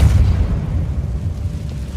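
A Confringo fire spell blasts in Hogwarts Legacy, giving a heavy, deep boom up front that rumbles on through the rest of the moment without letting up.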